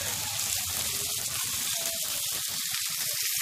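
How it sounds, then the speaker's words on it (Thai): Onion and chili fry in a pan for Thai basil stir-fry with century egg, giving a steady, close sizzle with faint scraping and watery crackle, no talking. "ก็หอมหัวใหญ่กับพริกเริ่มสุกนะคะ"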